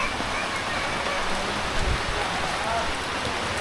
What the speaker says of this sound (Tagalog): Medyo ulan na tayo dito.